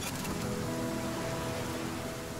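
Steady, soft rain falls in the river-survival game The Flame in the Flood, an even hiss of drops that holds without break under a faint low ambience.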